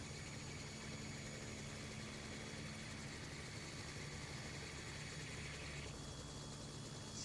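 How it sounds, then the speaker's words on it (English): A helicopter engine in a VR flight simulator runs with its rotor spinning up, a dense steady whine and drone that holds level throughout, with a slight shift in tone near the end. "A clutch allows the engine to be started and then gradually pick up the load of the rotor."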